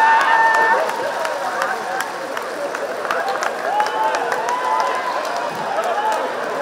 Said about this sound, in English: A standing round of applause.